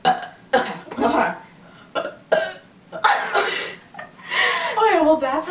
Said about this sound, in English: Okay, well that's our burp contest